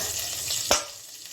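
Katla fish pieces fry in oil, a soft steady sizzle broken by one sharp clink or spatter near the middle, then quieter frying.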